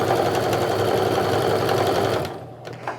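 A sewing machine runs steadily for about two seconds, stitching around the top of a sling bag, a continuous close whirring hum that then cuts off into near quiet with a faint rustle.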